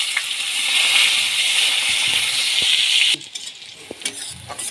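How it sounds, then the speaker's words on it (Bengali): Chopped onion fries loudly in hot oil with dried red chilli, bay leaf, whole cumin and asafoetida, a steady dense sizzle with stirring scrapes, then the sizzle drops quieter partway through as intermittent utensil clicks continue. "এবারে পেঁয়াজ কুচি"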